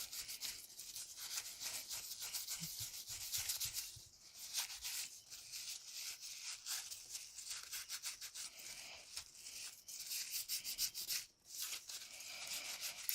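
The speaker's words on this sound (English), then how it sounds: "Just get as much as you can and rub it in real good." Oil and brown color being rubbed into leather by hand, a steady close scrubbing and rubbing texture that continues with brief pauses and no talking.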